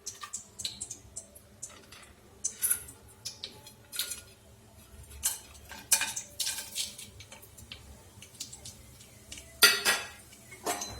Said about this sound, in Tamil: போட்டு கொஞ்சம் நல்லா கலரி விட்டுருங்க